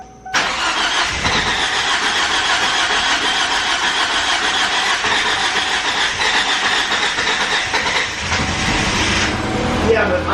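A car engine fitted with a new fuel pump cranks briefly and catches, then runs loud and steady with a dense mechanical roar close by before settling near the end.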